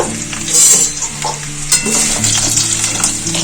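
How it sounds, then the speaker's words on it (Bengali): Potatoes frying in oil for aloo dum, a loud continuous sizzle with scraping stirs and spatula knocks against the pan, close and without voices. "আলুগুলো খুব ভালো করে ভাজা হয়ে গেছে"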